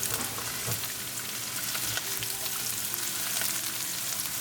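Cumin and mustard seeds with ginger and garlic sizzle steadily in hot oil, a dense close crackle with faint stirring, with no talking.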